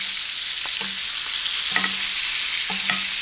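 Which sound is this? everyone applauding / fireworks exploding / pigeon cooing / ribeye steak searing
ribeye steak searing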